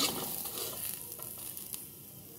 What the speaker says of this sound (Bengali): আর এটা নাড়াচাড়া করে নেব, হালকা করে নাড়বো এটা